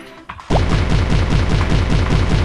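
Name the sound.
cannon gunfire in a fish shooting video game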